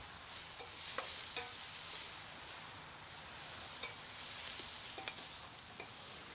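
One chopped onion, lightly salted, cooking in a pan for paella valenciana, giving a soft steady sizzle with a few scattered clicks of utensil against the pan, quiet and unbroken by talk.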